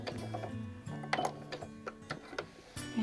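A sewing machine runs a short burst of lock stitching while attaching bias binding, giving quick irregular ticks and mechanical clicks, close and fairly quiet, with small pauses between the runs.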